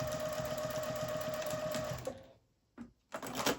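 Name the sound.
sewing machine stitching a second row on a zipper pouch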